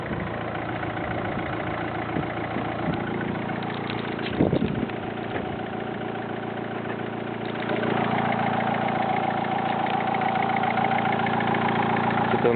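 A Renault Clio 2 1.5 dCi 80 diesel engine idles with a steady, even mechanical drone, heard close and alone, with a brief clatter partway through and a slightly fuller hum later.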